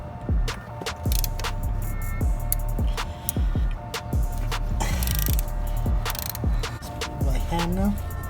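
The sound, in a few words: 12mm wrench removing bolt from Honda Civic shift linkage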